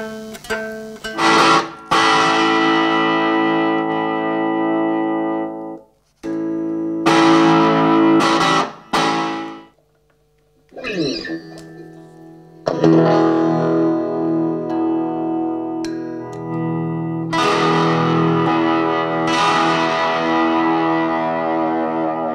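Newly built electric guitar played through a small test amp in a German guitar workshop, heard as loud, distorted chords and ringing sustained notes with echo and effects, broken by brief pauses and a few short stops.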